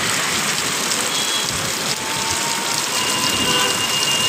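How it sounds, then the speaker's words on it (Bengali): Heavy, sudden downpour drumming on a tin roof over a shopfront, a dense, constant hiss and patter of rain at steady volume, close and enveloping, with no voices. "দেখতে পাচ্ছ প্রচণ্ড জোরে বৃষ্টি হচ্ছে, হঠাৎ করে বৃষ্টি নেমে এসেছে"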